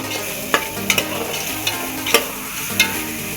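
Turmeric and spices sizzle in a hot pan while a spoon scrapes and clinks against the metal several times in an irregular stirring rhythm.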